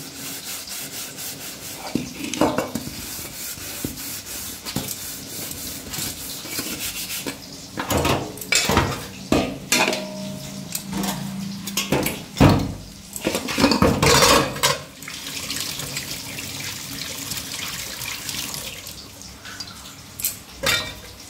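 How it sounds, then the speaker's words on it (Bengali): Pots, pans and cutlery being scrubbed and washed by hand in a home kitchen, with irregular clattering knocks and harsh rubbing strokes, busiest in the middle stretch, close and fairly loud with no talk. "মাছটা ভাজতে ভাজতে ভাবছি বাসনগুলো মেজে নিই"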